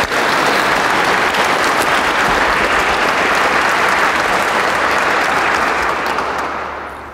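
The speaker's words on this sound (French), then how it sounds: "Une bonne main d'applaudissement pour nous." Loud, sustained applause from a large crowd at a charity foundation event, dense and unbroken, then fading at the end.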